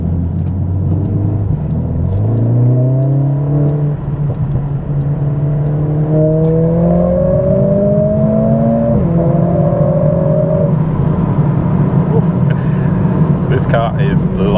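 A Mercedes CLA45s AMG fitted with an aftermarket exhaust pulls hard through the gears, its engine note climbing in pitch, dropping at each shift and climbing again, loud and close throughout with occasional voice over the drone.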